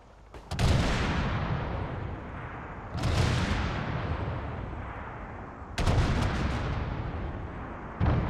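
Artillery salvo in a military shooter game: three or four heavy booming blasts several seconds apart, each with a long rumbling tail that slowly fades, loud and close with no voices.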